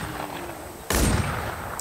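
Gunfire in the online zombie-survival video game The WarZ: after a near-silent stretch, one sudden loud shot bursts in, followed by a sustained roar of noise with no talking.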